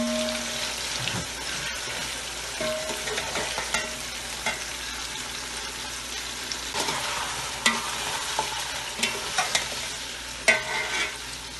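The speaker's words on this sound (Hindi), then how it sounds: "चिकन डालें। थोड़ा सा भूनेंगे इसको।" Chicken pieces frying in a pan for yakhni biryani, with a steady sizzle and occasional stirring scrapes and clinks close by, no voices.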